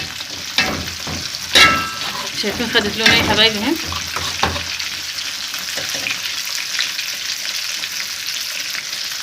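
Onions frying in a pan, browning for a curry rice dish, a steady close sizzle throughout with someone talking over it early on.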